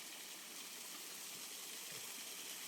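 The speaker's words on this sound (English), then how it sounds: "Oh my gosh, cute waterfalls." Small waterfalls on a woodland walk, a steady broadband rush of falling water, continuous and fairly close with no other sounds standing out.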